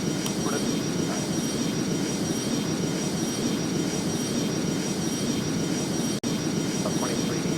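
Airbus A320 jet taking off in the flight game Airline Commander: a steady, dense engine roar holds at an even level throughout, broken by one brief dropout near the end.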